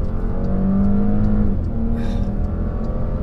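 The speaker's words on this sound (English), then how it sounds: "The engine is smooth," A 2020 Porsche Cayenne Coupe's V6 engine, fitted without the sports exhaust, gives off a steady, close, smooth drone with a slight rise in pitch as it pulls ahead, and no voices.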